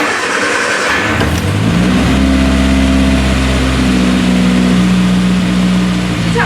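An MG Midget engine runs steadily just after start-up, a loud, even idle with a low drone and faint mechanical whine, no voices over it.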